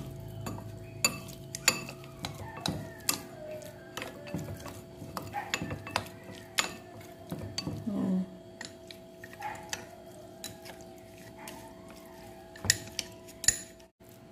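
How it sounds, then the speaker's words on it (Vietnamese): A utensil stirs seasonings into a savory filling in a bowl while making Mekong-style bánh đúc mặn with coconut milk: quiet, irregular clinks and scrapes against the bowl, close and sparse. "Trộn cho gia vị thấm đều nha các bạn."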